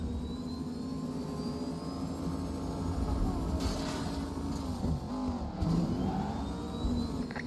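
A car driving in the LEGO Batman video game, a steady engine hum with a rising whine and a brief swell midway, running continuously with no clear speech.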